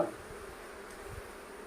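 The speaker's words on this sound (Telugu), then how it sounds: "అన్ని లోనకి వెళ్ళినాయండి ఈగలు" Flies swarming into a new house buzz as a faint, steady insect hum with no talk, a low continuous drone that barely shifts over its short length.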